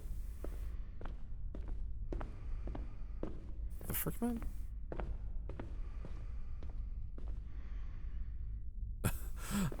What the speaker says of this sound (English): I thought I heard someone else's footsteps.